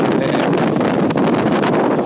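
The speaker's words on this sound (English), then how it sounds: "It's windy. Really windy up the top there." Strong wind on a hilltop roars and buffets the microphone nonstop, a loud, steady rush of gusting air with no voices.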